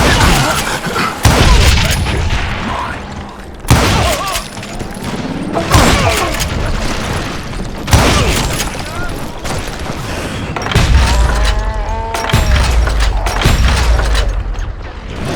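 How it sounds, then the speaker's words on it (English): Gatling gun fire in the Western shooter Call of Juarez: Gunslinger, heavy booming bursts of rapid shots repeating over several seconds with clanking mechanism noise and dramatic game audio between volleys. "Kid Curry opened up on me with a goddamn Gatling gun"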